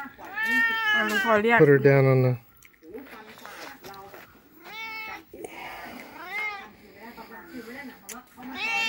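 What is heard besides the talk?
old black cat meowing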